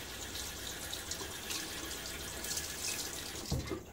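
Water runs steadily from a tap during a wet shave while a Haslinger sheep's milk shaving soap is being loaded, a continuous splashing hiss with a brief louder splash near the end. No one speaks.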